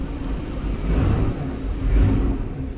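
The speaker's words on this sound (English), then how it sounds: "Motor's sitting there running beautifully." Restored Bertram boat's marine engine idling steadily with a new exhaust, elbow and Y-pipe, a fairly quiet, even low rumble under an open engine hatch, with a slight swell partway through.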